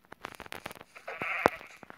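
Sheep bleating in the Minecraft video game: a short, fairly faint bleat rises among scattered clicks and game sounds.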